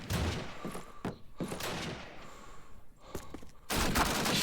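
Rapid bursts of gunfire and a grenade in a competitive online shooter match, dense overlapping shots coming in repeated volleys, loud and close throughout.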